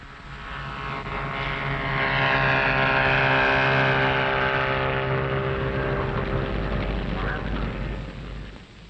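A vintage Bristol Fighter biplane with a Rolls-Royce Falcon propeller engine drones steadily overhead, swelling louder in the middle and easing off toward the end, with a deep rumbling hum.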